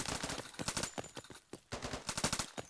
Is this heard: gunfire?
yes